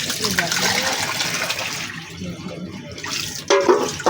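Water runs from a tap over greens being washed, a steady splashing rush that breaks off briefly and then gushes again, close by.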